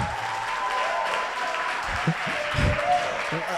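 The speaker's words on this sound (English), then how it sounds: "can you just give a round of applause to St. Paul's University?" An audience applauds St. Paul's University in a steady wash of clapping, with a faint voice or tone running underneath and a few louder bumps near the end.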